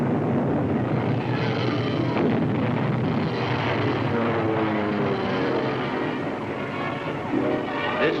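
WWII bomber aircraft engines drone in flight during a battle, a dense, continuous roar that holds steady throughout with no voices.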